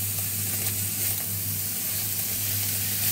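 Mushrooms frying in a hot pan for beef stroganoff, a steady, close hissing sizzle with faint crackle and occasional stirring, constant in level throughout with no one talking.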